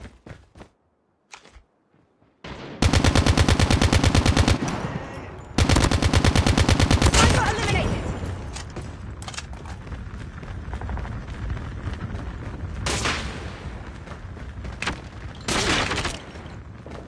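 Video game firefight with sniper fire: bursts of rapid automatic gunfire and scattered loud shots, alternating with brief near-silent gaps.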